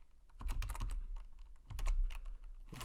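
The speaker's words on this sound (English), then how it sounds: "You can also do the same with typing the numbers in" Computer keyboard keys typed in two quick bursts while entering numbers into an Excel spreadsheet, a rapid clatter of close, crisp clicks separated by a short pause.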